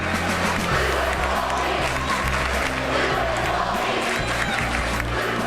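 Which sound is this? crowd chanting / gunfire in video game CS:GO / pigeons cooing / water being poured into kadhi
crowd chanting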